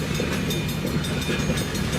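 Train ELS 502/1221 rumbles past nearby heading south with a steady rolling roar and faint rhythmic clatter of wheels on track.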